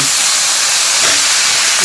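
Green peas tipped into a hot pan with capsicum and frying vegetables, no extra oil, for navratan korma, giving a steady, loud, broad hiss of sizzling that carries evenly throughout.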